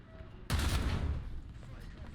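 Tank gunfire in the video game War Thunder, a single sharp blast that bursts in suddenly and decays into a rumbling tail, moderately loud over a quiet background.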